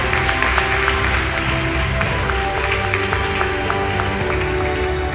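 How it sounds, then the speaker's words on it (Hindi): Applause from a congregation during a church sermon, a steady dense wash of many hands clapping that holds evenly for several seconds under a low background hum. "ताली नहीं बजाओगे आप?"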